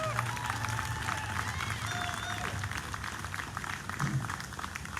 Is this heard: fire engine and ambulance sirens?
no